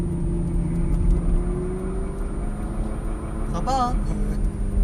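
Ferrari F430 Scuderia heard onboard on a track, its engine a steady loud drone and whir throughout while people talk over it inside the car.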